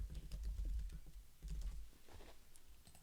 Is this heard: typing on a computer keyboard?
yes